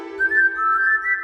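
A synthesized whistle sample in Reason 5 plays a single sustained tone for about a second, clean and alone, its pitch rising slightly and wavering toward the end.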